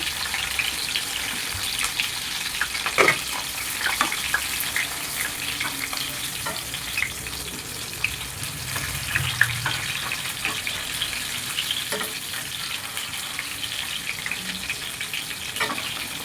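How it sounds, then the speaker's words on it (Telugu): Stuffed brinjals fry in a pan of hot oil, giving a steady, close, dense sizzle throughout, broken by a few light clinks as they are turned. No one speaks. "టూ మినిట్స్ తర్వాత మళ్ళీ వంకాయల్ని టర్న్ చేసుకుని ఈవెన్గా ఫ్రై చేసుకోవాలి"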